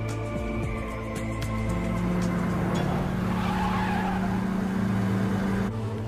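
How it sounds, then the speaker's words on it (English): A four-door Dodge Spirit speeds past with a roaring engine and squealing, skidding tires. The drone builds and then fades over several seconds, loud and alone with no voices. "The car just drove by."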